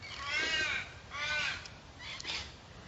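Crows caw in three drawn-out, harsh calls spaced about a second apart, fairly close and loud over a low background rumble, with no talking.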